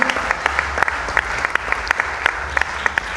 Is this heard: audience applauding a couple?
yes